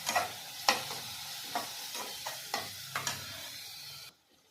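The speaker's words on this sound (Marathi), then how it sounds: "आता मिरची पण व्यवस्थित त्याच्यात भाजून घेऊया." Green chillies and onion roast in a pan, a close sizzle with several distinct stirring scrapes of a spatula at irregular intervals, before the sound cuts out near the end.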